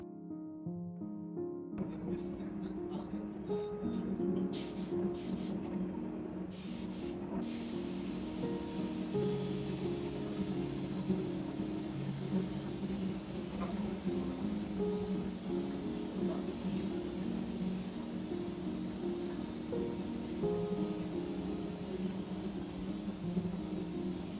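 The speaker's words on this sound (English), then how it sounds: "get out the spray gun and start painting the windows" A spray gun paints windows in steady hissing spray that runs continuously for a long stretch, broadband and close, with a brief mechanical start and faint machinery underneath.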